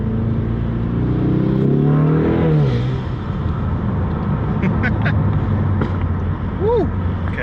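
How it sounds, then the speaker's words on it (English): Car engine revving up through a shift into second gear, a loud, steady drone that rises and falls, followed by a few brief popping exhaust backfires near the end, heard from inside the car. "Okay, a little backfire there."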